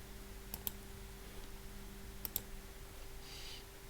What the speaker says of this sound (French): Alors je clique ici